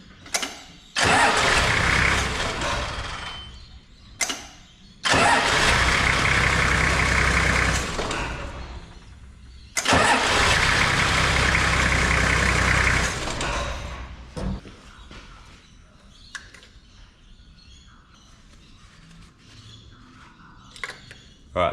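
A Toyota Landcruiser HZJ75 diesel engine cranks and fires three times in succession, each start settling into a loud, steady idle for a few seconds before being shut off, followed by quieter workshop noises.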